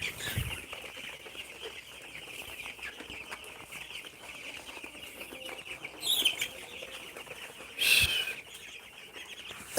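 Eleven-day-old broiler chicks crowded together in a shed, a constant soft chorus of high chirping, with a few louder peeps standing out near the end.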